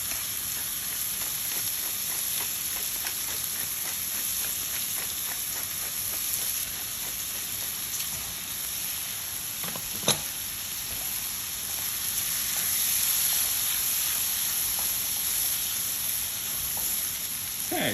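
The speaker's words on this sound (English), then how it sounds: "now add in the peppers after another minute" Peppers hiss and crackle steadily in a hot pan for a mussel dish, a close, even frying sizzle with a few clinks and stirs and no talk over it.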